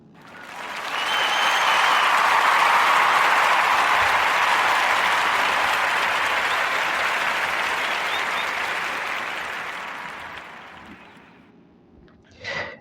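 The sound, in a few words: applause, clapping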